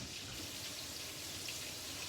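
A kitchen tap runs steadily while raw meat is rinsed under it, a soft continuous hiss of flowing water splashing into the sink, quiet and unbroken with no talking.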